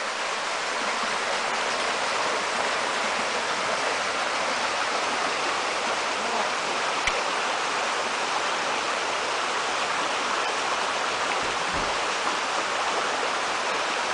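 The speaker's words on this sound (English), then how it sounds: "This is a nice little stream here." Continuous rushing of a flowing stream, steady and full, with no voices.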